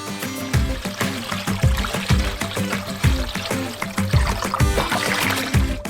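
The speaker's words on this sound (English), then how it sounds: "Add more water to cover all the meat." Water pours into a container of ostrich meat pieces sitting in marinade: a continuous splashing, gurgling stream with rhythmic low glugs, close and fairly loud, with no voices.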